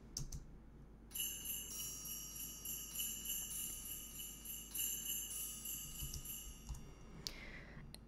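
Orchestral triangles, tambourines and sleigh bells shimmer in as a bright, sustained metallic jingle with light tapping accents, kept fairly quiet and steady for several seconds before fading near the end.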